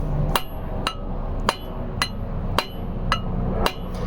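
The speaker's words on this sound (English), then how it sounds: "Go ahead and smash it with a hammer." Seven sharp hammer blows land at a steady rhythm, close and loud, striking a tight part during a stator replacement on a 1995 Polaris Magnum, each hit ringing briefly with a metallic edge.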